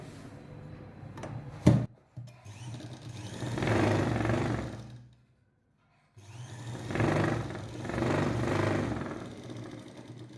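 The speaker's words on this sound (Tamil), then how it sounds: "இந்த பிசுரை இந்த பக்கம் விட்டு கொக்கி பீஸை மேலே வச்சு ஒரு அமுக்கு தையல் போட போகிறோம்." A sewing machine runs a press stitch on a lining jacket's hook piece in two separate bursts of steady whirring, parted by a silent pause, with a sharp click shortly before the first.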